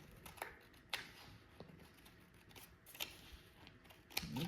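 Scissors trimming paper for a junk journal, a series of close, crisp snips and rustles spaced irregularly through a quiet room.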